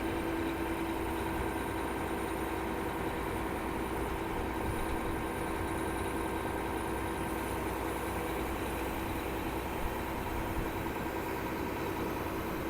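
A steady, low diesel truck engine with a turbocharger idles continuously at moderate volume after starting, with no speech and no change in its rumble.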